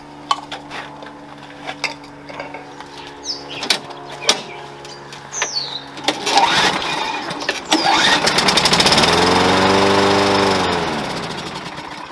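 A Scott's self-propelled push mower with a carburetor clogged by dirty fuel is cranked with a few rattling pulls, then its small engine catches and roars loudly and unevenly nearby before sputtering and winding down.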